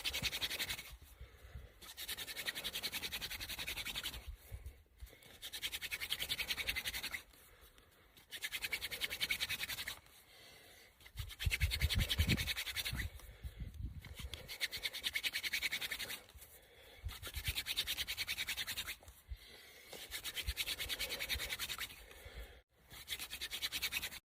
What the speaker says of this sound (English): Can you make fire by friction?